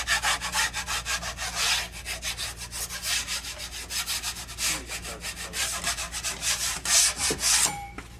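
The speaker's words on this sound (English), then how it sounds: "So when you see stuff like that, just scrape down so it's not so high." Dried grassello plaster being scraped down by hand, a steady run of close, rasping strokes with a gritty, abrasive texture, no voices present.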